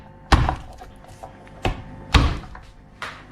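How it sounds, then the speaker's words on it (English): Garlic cloves smashed flat with a blade on a kitchen counter to loosen the skins, giving a few heavy, close thumps spread over a few seconds with quieter knocks between them. "To get the skins off garlic, you just smash them."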